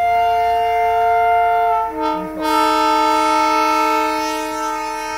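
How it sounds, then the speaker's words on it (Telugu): A Darjeeling toy train steam engine sounds its whistle in a loud, steady multi-tone blast that holds for about five seconds, dipping briefly in the middle before swelling again, with no talking. "సో ఇది వచ్చేసి స్టీమ్ ఇంజన్"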